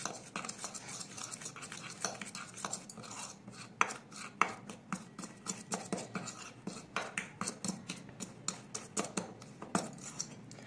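Homemade kunkuma powder ingredients being mixed, giving repeated scraping and gritty rubbing strokes at close range, steady and uneven in rhythm, with sharper scratchy clicks throughout and no voices.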